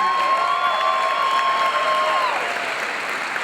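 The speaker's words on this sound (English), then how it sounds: "how about a lovely round of applause for all of our tattoos?" Audience at a fan convention Q&A bursts into dense, steady applause with scattered cheers and whistles, loud and sustained throughout before tapering slightly at the end.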